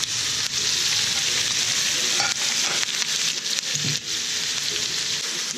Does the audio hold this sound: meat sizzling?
yes